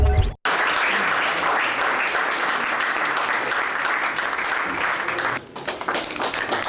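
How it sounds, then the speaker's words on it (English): Sustained applause from many clapping hands, dense and steady after a brief abrupt cut at the start, dipping momentarily near the end before continuing, with no speech over it. "Applause."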